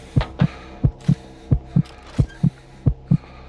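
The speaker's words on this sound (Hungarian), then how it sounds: "De ez a szívdobogás, ez nagyon idegesítő hosszú távon." A heartbeat sound effect in the horror video game Bite By Night pounds in a steady lub-dub rhythm, five double thumps over a few seconds, loud and close with a low hum beneath and no talking.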